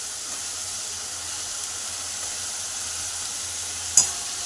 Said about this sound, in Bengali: এটাও ভালো করে কষিয়ে নেব।